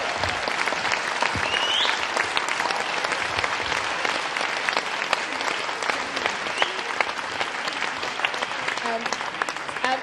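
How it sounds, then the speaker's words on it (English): Steady, dense applause from a large crowd at a talk event, clapping continuously at an even level throughout. "one more warm round of applause to Paul Mason"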